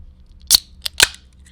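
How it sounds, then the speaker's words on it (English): An Owens Mixers transfusion can is opened close to the mic with a sharp metallic click of the tab, a smaller crack and a quick burst of fizzing release, all within about a second. "This is opening up an Owens Mixers transfusion can."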